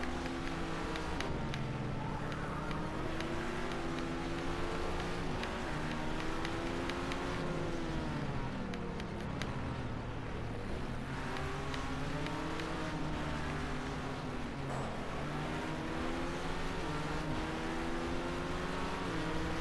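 Race car engine in a racing video game, revving hard and continuously with repeated rising and falling pitch sweeps as it shifts, loud and steady with no talk.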